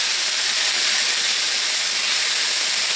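Broccoli cooking in a pan on a stove over high heat gives off a steady, loud sizzling hiss of steam that stays even from start to finish, with no talk.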